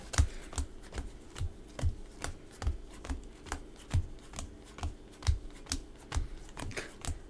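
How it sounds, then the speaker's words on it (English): Magic the Gathering cards being pile shuffled, each card dealt down with a soft, crisp slap in a steady rhythm of roughly two per second, close and fairly quiet, with no talking. "I'll do a 6-pile shuffle."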